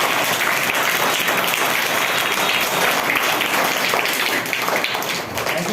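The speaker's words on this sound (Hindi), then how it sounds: "ताली लगाओ तो।" Schoolchildren clap together at a parent-teacher meeting at a school in Bhauara, Madhubani, a dense, loud burst of many small hands sustained evenly, tapering slightly at the end.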